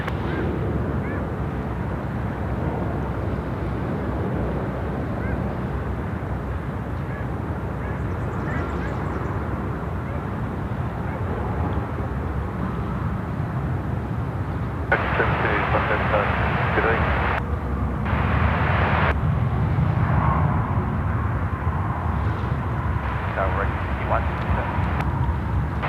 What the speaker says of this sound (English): There is the 330-300 just land there nicely from Garuda